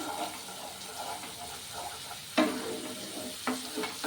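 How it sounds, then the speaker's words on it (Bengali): Chili powder stirred into egg curry masala frying in a pan: a soft, steady sizzle with two sharper scraping clinks of the spoon against the pan, close up, and no talking. "এবার লঙ্কা গুঁড়ো দিলাম, দিয়ে একটু নাড়লাম"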